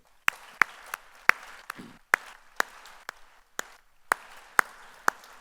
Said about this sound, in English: One more round of applause for Char and Henry.